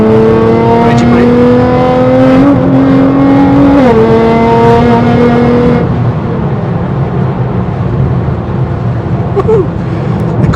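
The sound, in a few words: 640bhp GTR car on air ride driving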